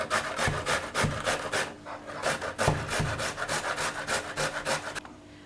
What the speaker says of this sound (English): So what we are going to do first with the 3 potatoes, we are going to grate them.